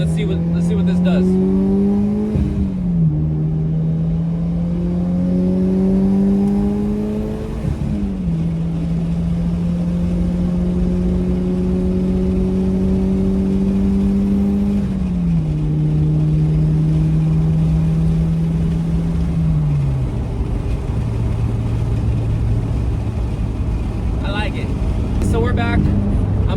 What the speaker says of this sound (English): I'm gonna go ahead and do a nice strong pull here on the highway